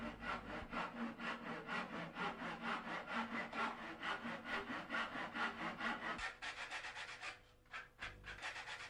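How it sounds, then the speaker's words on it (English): A hand saw cuts through wooden molding braced against a wood block, giving steady rhythmic back-and-forth rasping strokes up close that slow and stop near the end. "Use a saw and a wood block to cut it."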